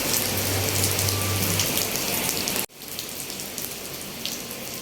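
Steady rain pours down at a farmhouse resort with a pool and jacuzzi, a dense hiss of drops on surfaces that drops sharply in loudness partway through and then continues more softly.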